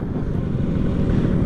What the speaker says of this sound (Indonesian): asli ini enak banget sih sore-sore naik Vespa